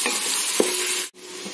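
Onions fry in a pan toward light brown, giving a close, steady sizzle with a spoon knock and stir, then a brief break before the hiss continues; no talking.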